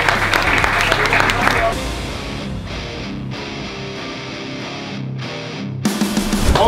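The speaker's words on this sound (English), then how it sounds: "give yourself a round of applause for coming here today" A crowd at a football event bursts into loud applause and cheering, which cuts off after a couple of seconds into quieter background sound with voices, then swells again near the end.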